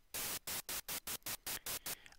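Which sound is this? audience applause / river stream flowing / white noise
white noise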